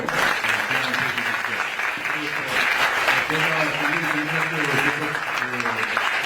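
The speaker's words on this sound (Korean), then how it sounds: "오늘 열강의 총리님께 다시 한번 박수." Audience applause for the prime minister, Kim Min-seok, after a special lecture to young leaders on politics, with steady clapping throughout and a host's voice speaking over it.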